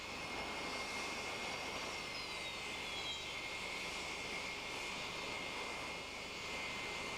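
Aermacchi MB-339 jets of the Italian Frecce Tricolori aerobatic team at an airshow, a continuous airborne roar with a rising and falling whine as they pass, steady in level and without speech.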